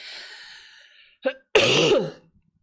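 A single throaty cough followed by a longer raspy throat-clearing burst, close to the microphone, with no talking.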